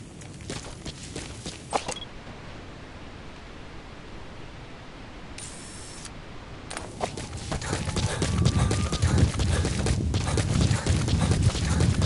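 A horse's hooves clop steadily on the ground in Metal Gear Solid V: The Phantom Pain, under a wash of wind-like outdoor noise that swells louder toward the end.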